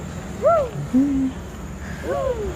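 Birds calling at a zoo, with several clear hooting, swooping calls close by, a pause between them, then more overlapping calls over a quiet background hum.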